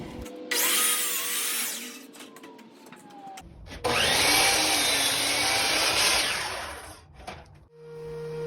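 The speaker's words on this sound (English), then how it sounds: "Then into the shop to rough cut the lumber." Power saw rough cutting cherry hardwood lumber in a woodworking shop, two loud sustained cuts with the blade whining up and down as it bites through the board, separated by a short gap.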